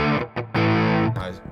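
An electric guitar played through a loud Fender Twin Reverb amp set at about three, ringing out as sustained, overdriven chords with a short pause between strums, close and full, with no voices.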